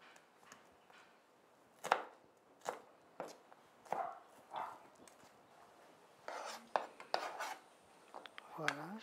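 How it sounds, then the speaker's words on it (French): Shallot being chopped with a knife on a board: a series of separate sharp cuts, irregularly spaced and moderately close, with light clatter of utensils between them. "je vais faire un petit peu d'échalote que je vais émincer pareil"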